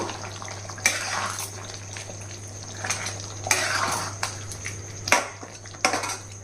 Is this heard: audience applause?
no